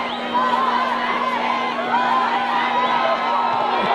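A steady roar from a high school varsity football playoff crowd at Redondo Union versus Aquinas fills the stands as fans chant before an extra-point kick, with whoops and children's shouts over a dense, continuous wash.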